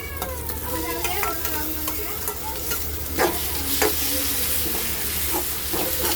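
Chopped tomato stirred into reddened fried onions for paneer bhurji, a continuous close sizzle broken by repeated scraping strokes of a spoon against the pan.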